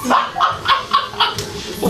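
Pet birds call in a rapid series of sharp, repeated squawks, close and fairly loud, with a faint voice in the background.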